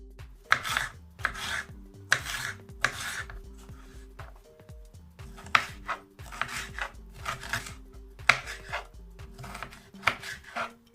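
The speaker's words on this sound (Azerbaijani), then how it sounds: "Yarım qırmızı biber doğrayıram." A knife chops through half a red pepper in quick bursts of crisp strokes with short pauses between them, while soft background music plays.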